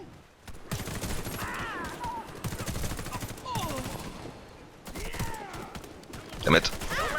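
A ZX84 SMG in Warface fires unaimed in rapid bursts, with dense automatic gunfire pausing briefly between strings, close and loud, with someone talking over it.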